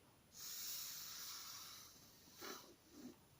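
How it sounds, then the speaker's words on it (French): A spray bottle misting fine droplets onto a shabby-style craft tag: a close, airy hiss lasting about a second and a half, followed by two shorter softer puffs. "Ça fait des petites... comment dire? Des petites gouttes dessus comme un spray."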